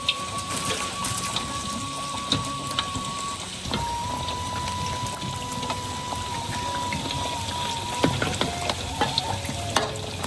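Food fries in hot oil, apparently an Indonesian village kitchen, a dense close crackling sizzle that runs continuously, with occasional stirring clinks and no talk.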